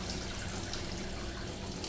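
About a cup and a half of water poured into ground venison for jalapeno cheddar summer sausage, a steady close splashing pour lasting the whole moment with no talk.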